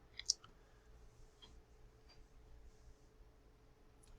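A single computer mouse click, short and sharp, then a few faint ticks over quiet room noise, with no talking.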